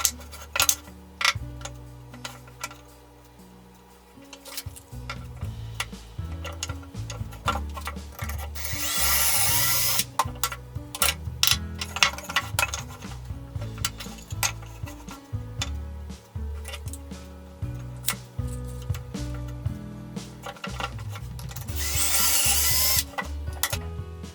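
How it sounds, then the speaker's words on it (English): A power drill bores pocket holes into wood through a Kreg jig for a simple bedside table, with repeated bursts of whirring and grinding separated by clicks and handling noise, close and fairly loud. "I pretty much guarantee I wouldn't be able to drill a hole like that freehand"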